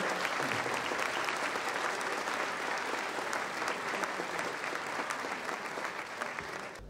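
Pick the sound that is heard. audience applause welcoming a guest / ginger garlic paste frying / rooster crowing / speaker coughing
audience applause welcoming a guest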